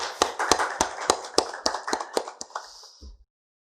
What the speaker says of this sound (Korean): 귀한 찬양 인도한 찬양단 위하여서 격려 박수하도록 하겠습니다.